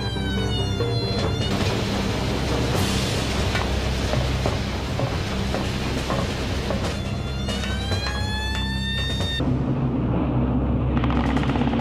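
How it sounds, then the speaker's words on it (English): Heavy guns of the German battleship Tirpitz fire at attacking British Lancaster bombers: a dense, continuous barrage of loud bursts and rattling blasts with wailing, siren-like tones rising over the din. "they were firing their big guns at us"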